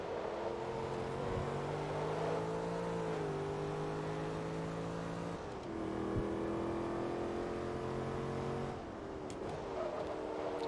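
A race car engine in the Forza Motorsport 2 video game, a steady droning roar that shifts pitch as it accelerates and drops through gear changes, continuous and loud with no talking.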